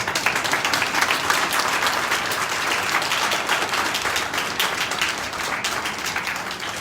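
A crowd applauds at an SBI regional office opening ceremony in Una, steady loud clapping from many hands filling the whole stretch without pause.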